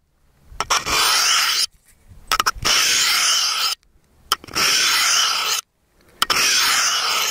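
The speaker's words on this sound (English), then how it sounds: "Notice how that sound is a lot more crisp, or a little bit louder." Knife edge drawn along a ceramic honing rod in four crisp, bright rasping strokes, each about a second long with short silent gaps between, close up and clear.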